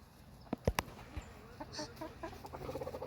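Cochin Bantam hens clucking close by, a few sharp bursts early followed by a string of softer, quicker clucks, with faint background noise and no talk.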